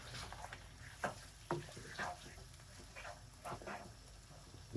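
Meat curry stirred in a pot for a British Indian restaurant-style one-pot dish, soft sizzling under a series of distinct stirring scrapes at a steady pace, close but quiet.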